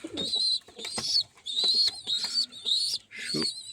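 Pigeons coo in six repeated bursts, each a rising then falling call with a rough low rumble beneath, close and fairly loud with short gaps between.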